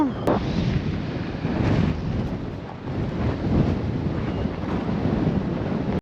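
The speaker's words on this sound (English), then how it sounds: "gosh dang, it's windy today" Strong wind roars steadily across the open desert of Death Valley near a large crater, buffeting the microphone with a loud, continuous rumble that surges and dips for the whole stretch.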